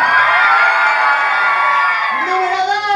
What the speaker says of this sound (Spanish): fuerte el aplauso del equipo número uno